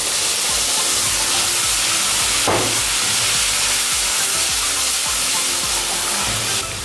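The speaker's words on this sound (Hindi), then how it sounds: "मसाले को भूनने के बाद हम इसमें 1 कप दही शामिल करेंगे।" Nihari masala sizzles and fries loudly in a pot for a Nali Nihari dish as a cup of yogurt goes in, a steady dense hiss with a sharp burst of spattering partway through, no voices.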